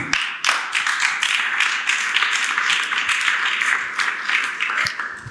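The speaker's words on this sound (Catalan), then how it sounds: "un aplaudiment, si us plau" An audience applauds at a climate justice and human rights conference session, a sustained, dense round of clapping heard alone at moderate volume for several seconds.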